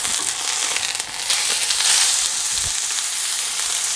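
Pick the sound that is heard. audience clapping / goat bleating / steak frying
steak frying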